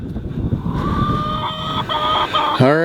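Chickens in a backyard pen, kept together with a duck, give steady clucks and calls over a constant rumble of background noise, with one sharper squawk at the end.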